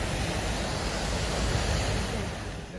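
A river on the Camino de Santiago near Villamayor de Monjardín, too deep to cross, rushes in a steady, loud broadband roar. The flow runs continuously with no voices over it.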